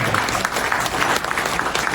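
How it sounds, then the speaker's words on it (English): A crowd at a startup expo gives a round of applause, loud and close, with dense continuous clapping that fills the whole moment without speech. "give them a round of applause"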